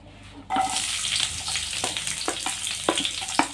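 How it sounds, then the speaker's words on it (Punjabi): Onions dropped into hot oil in a pan, the sizzle jumping in suddenly and holding as a steady bright crackle, with occasional stirring clicks, close and fairly loud with no voices. "ਤੇਲ ਸਾਡਾ ਗਰਮ ਹੋ ਚੁੱਕਾ ਹੈ ਤੇ ਹੁਣ ਅਸੀਂ ਇਹਦੇ ਵਿੱਚ ਪਾਵਾਂਗੇ ਜੀ ਪਿਆਜ਼"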